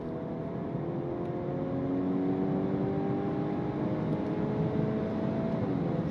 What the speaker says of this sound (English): the noise I'm hearing is enhanced by the speaker system, so it's not pure audio heard from the engine and the exhaust